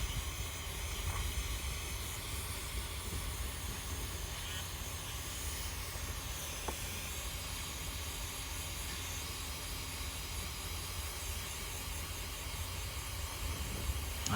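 A heat gun blows a constant, steady hiss while shrinking heat-shrink tubing onto a boat battery cable end, with no speech and only faint handling sounds.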